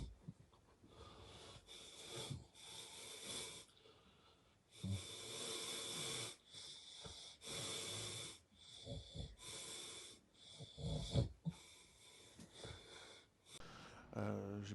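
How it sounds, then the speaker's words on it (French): A person sleeping with interrupted breathing, snoring and wheezing in an irregular series of rasping breaths, some long and strained, broken by quiet gaps where breathing stops, recorded close in a quiet room. "je dois surtout trouver une position où je respire bien et pour éviter que ma respiration se coupe beaucoup pendant la nuit"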